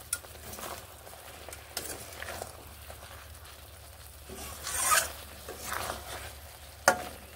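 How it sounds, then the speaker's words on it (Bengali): Eggplant fries in a pan while being stirred, with a soft continuous sizzle and occasional scraping and clinking strokes of the spoon close by, without any talking. "এবার একটুখানি নেড়ে নিচ্ছি।"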